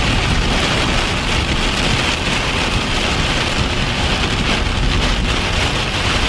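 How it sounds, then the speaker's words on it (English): Heavy rain pours down steadily during a tornado, heard while driving, in a dense, roaring wash of noise, loud and close, with no letup. "It's not no regular rain. You can't even see"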